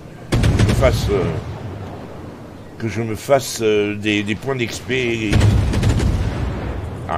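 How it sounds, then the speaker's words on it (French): Heavy cannon booms from the warship Jervis in World of Warships roll out at the start and again near the end, with someone talking in between. "j'adore le bruit des canons du Jervis"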